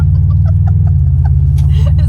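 The engine of a 1995 Subaru Impreza GC8 runs with a loud, steady, deep rumble that drones for the whole moment while a voice talks faintly over it.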